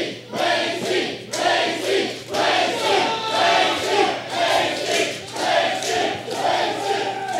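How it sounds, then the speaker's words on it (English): Capacity crowd at a UCW-Zero independent wrestling show chanting in rhythmic waves, loud swelling shouts rising and falling in a repeated pattern about every second, with a low steady hum beneath. "And this capacity crowd clearly cheering for the wrong person in this match."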